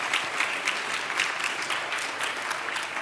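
Audience applause at a MadFest 2022 conference talk on purposeful brands, a steady, dense wash of clapping from a crowd that holds at an even level for the whole stretch with no one speaking.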